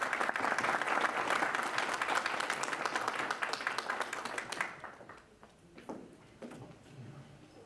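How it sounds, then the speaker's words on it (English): Audience applause greets a speaker at an entrepreneurship club event, a dense burst of clapping that thins out after about five seconds into scattered individual claps. "Please welcome with a round of applause, Raghav Hussain."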